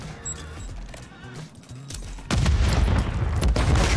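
A grenade explosion in Modern Warfare 3 erupts halfway through as a loud, sustained crash of blast and debris, following a stretch of quieter in-game sounds and gunfire.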